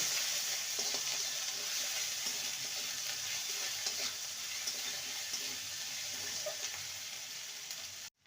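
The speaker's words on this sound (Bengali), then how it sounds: "দুটো কাঁচা লঙ্কা আর আদা এক ইঞ্চির মতন আদাকে বেটে নিয়েছি ভালো করে কষিয়ে নেব" Ginger and green chili paste sautéing for a drumstick curry, a soft, steady sizzle with a faint watery hiss, quiet and even throughout, ending abruptly.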